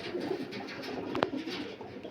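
Close by, a Miravwale pigeon gives a soft, low coo, with one sharper click or flap partway through a brief, quiet stretch.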